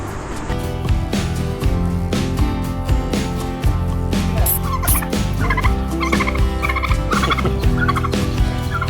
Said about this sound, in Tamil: அது என்ன வான்கோழி என்னன்னு தெரியல